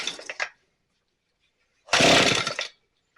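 A Shindaiwa T230X weed trimmer under repair with choke on is pulled to start twice, two short raspy bursts of engine sputter separated by silence, close and loud, without catching.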